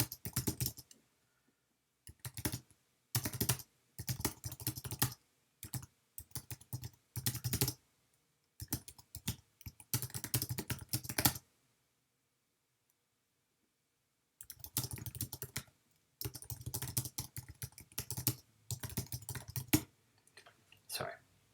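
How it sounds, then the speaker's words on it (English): Computer keyboard typing in quick bursts of clicking keystrokes, close and fairly quiet, broken by pauses and a long silent stretch in the middle before the tapping resumes. "It's hard to type and talk at the same time."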